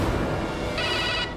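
A telephone rings indoors with a bright electronic trill that starts partway through, over a low room hum, with no voices.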